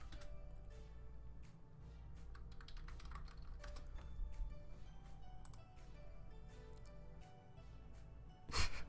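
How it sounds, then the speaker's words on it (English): Someone types on a computer keyboard at a desk, a quiet run of uneven key clicks and taps that speeds up and slows down, ending in a louder clack. "I'm just typing something real quick"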